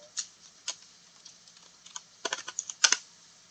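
Computer keyboard keys and mouse buttons click in quick, uneven bursts at a desk while severe weather radar is being checked, light taps spread across the stretch and clustering densely near the end.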